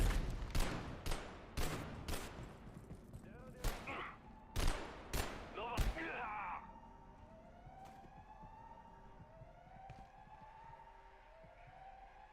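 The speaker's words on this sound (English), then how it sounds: "You are shooting at me." In Abiotic Factor, a string of sharp gunshots rings out at irregular intervals over about six seconds, then fades into quieter wavering tones and distant hums.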